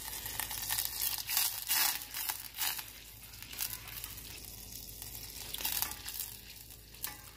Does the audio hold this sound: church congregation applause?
no